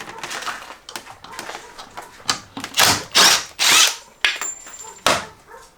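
A power drill unscrews screws from boards during a homestead floor restoration, with several loud whirring bursts of varying length separated by pauses and light handling clatter.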